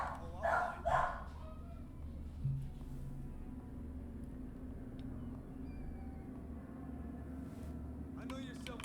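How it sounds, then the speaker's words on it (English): A dog barks twice in quick succession near the start, fairly close, then things settle into a low hum with a brief muffled voice, during a Dishonored game stream. "Sorry about the dog."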